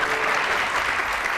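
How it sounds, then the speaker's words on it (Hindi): A television studio audience applauds in a brief, steady burst of many hands clapping together at moderate loudness. "हुमा के लिए, सायमा के लिए और इन दोनों के लिए बहुत सारी तालियां बजाइए।"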